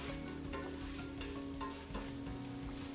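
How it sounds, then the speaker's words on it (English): Garlic, onions and celery sauté in a pot for homemade chicken bone broth, with a low continuous sizzle and intermittent scraping stirs, quiet and close, with no speech. "We're just going to mix the garlic, onions, and celery around"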